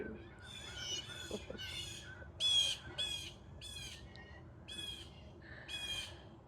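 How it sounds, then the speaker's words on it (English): A bird squawks repeatedly in harsh, rhythmic calls, about eight bursts spaced roughly evenly, fairly close over a quiet background. "Oh, it's a bird."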